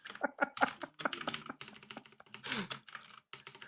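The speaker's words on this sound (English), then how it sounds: "I'm just typing." Computer keyboard typing in a room, a steady run of quick key clicks with short pauses, close and fairly clear.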